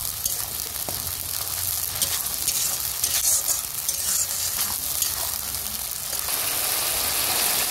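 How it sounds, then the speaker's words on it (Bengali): Onion and garlic spice paste fries in oil for chicken curry, making a dense, continuous close sizzle with faint stirring scrapes, a low engine-like hum underneath and no talk. "দেখো মশলাটা ভাজা ভাজা হয়ে গেছে"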